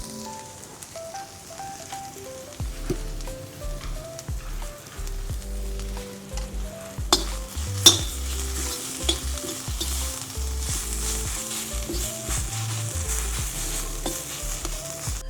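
Onion masala sizzles and is stirred in a pan over a village wood-fired chulha, with turmeric going in; steady frying hiss with scraping stirs and a few sharp clinks, and music playing underneath.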